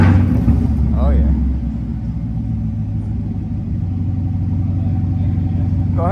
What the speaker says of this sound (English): we're gonna start it without the muffler on and see how she sounds